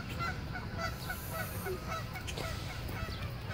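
A goose on the water honks repeatedly in short, evenly spaced calls over steady outdoor background noise, near goslings swimming close by.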